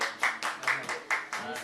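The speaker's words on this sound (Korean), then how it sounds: "박수." Several people clap their hands in a loose, uneven burst of sharp slaps at an art museum in Laos, close and moderately loud, with voices chattering in the background.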